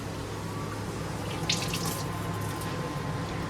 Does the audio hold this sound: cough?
no